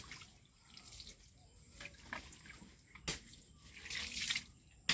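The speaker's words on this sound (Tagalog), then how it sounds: "Dami-daming tubig. Hindi na ginagamit ng maayos." Water runs from a tap into a sink, coming in faint, uneven splashing bursts that swell and fall, with brief louder gushes near the end.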